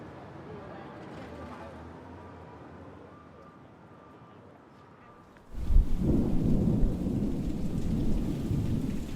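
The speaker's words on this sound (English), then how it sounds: "New York summers. The rain comes in hot and fast." A New York summer thunderstorm breaks in suddenly: after a quiet hum, heavy rain and rumbling thunder surge in loud and steady and keep pouring.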